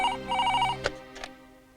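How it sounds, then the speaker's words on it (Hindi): A telephone ringing in an office scene of a dubbed action film, a short bright electronic ring tone heard close, followed by a couple of brief clicks as it stops. "आपके लिए फोन।"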